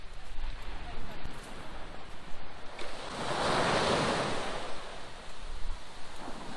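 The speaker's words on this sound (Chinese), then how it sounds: "来听一听大海的咆哮声" Ocean waves roll onto the beach at Stanley Park's Third Beach in Vancouver, a loud, continuous roar of surf that swells into a crashing peak midway through, blended with gusty wind noise.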